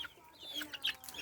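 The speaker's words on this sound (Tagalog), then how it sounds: "This is my manok." Chickens clucking on a small farm plot in the countryside, a few short, close clucks and squawks scattered over a quiet outdoor background.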